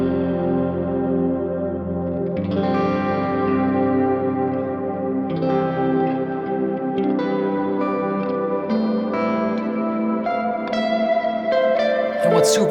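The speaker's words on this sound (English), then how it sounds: "There's some sort of overdrive happening on the reverb" A guitar plays sustained, ringing chords through a reverb pedal set to a lo-fi mode with overdrive, giving gritty, darker washes that swell with each new strum and then trail off.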